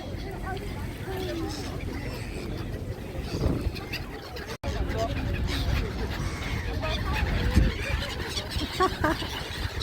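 Seagulls squawk and call excitedly at Haeundae beach in Busan as they are fed, a busy mix of bird cries over wind and sea noise, with people talking and laughing throughout.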